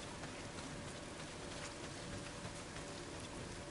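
Heavy rain pours steadily in the video game Days Gone, a dense, even wash of hiss that holds at constant strength throughout with no voices over it.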